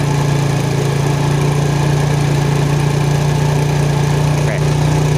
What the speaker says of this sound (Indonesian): Saat RPM mesin mulai menurun kita berhenti, masih tinggi.